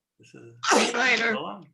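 A single sharp sneeze bursts out right after a voice says goodbye, loud and close, in a setting for a Torah service class.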